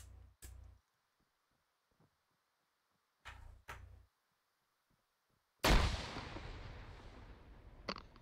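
Gunfire in an online capture-the-flag video game match: two pairs of sharp, short shots with silence between, then a heavy blast whose roar decays slowly, ending in one more faint pop.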